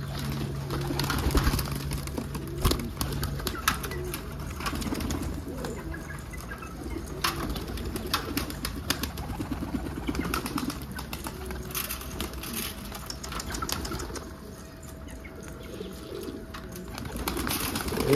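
Newly bought pigeons coo in low, repeated calls amid a busy, steady background of soft rustling and movement, with occasional faint wing sounds, close and continuous without talk.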